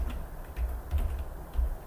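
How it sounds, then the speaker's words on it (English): Typing an address on a computer keyboard: soft, irregular key clicks in quick bursts, close and quiet, with no voices. "And then you can start typing the address"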